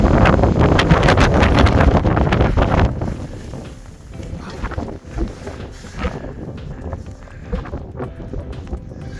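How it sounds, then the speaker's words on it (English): Strong wind roars across the microphone on the summit of Conival in Scotland, a loud blustery buffeting for the first few seconds that then drops to gustier, lighter rumbling. "Very windy."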